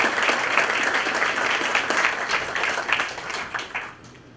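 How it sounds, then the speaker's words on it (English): Audience at a league academic breakfast applauding an honoured student, a dense, steady wash of many hands clapping that gradually thins and fades toward the end. "Ladies and gentlemen, one big round of applause for Katrina."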